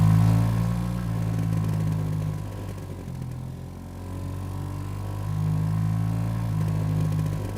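A Vespa scooter engine idles steadily with a low, continuous hum and a faint lull in the middle before settling back to an even idle, no voices present.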